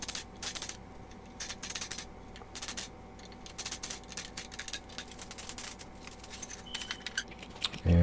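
Screws being tightened into a clamped wooden table frame come through as close bursts of quick clicking and ratcheting, separated by short pauses, with a heavy thump at the very end.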